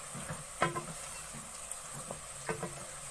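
Metal spoon scraping and tapping in a pan of onions frying in oil, a few distinct clinks and scrapes over a steady low sizzle, close up with no talking.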